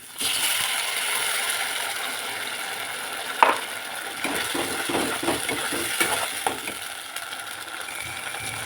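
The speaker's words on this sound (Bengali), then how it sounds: "এখানে মশলা মশলাগুলো একটু ভাজা ভাজা হচ্ছে" Spice paste frying with browned onions in a pan, a soft continuous sizzle with clinks and scraping stirs of a utensil, one sharp tap partway through.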